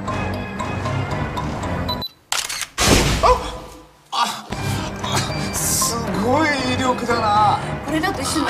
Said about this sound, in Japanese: あなたのその首からかけているデジタル一眼レフカメラのシャッターを押してもらえますか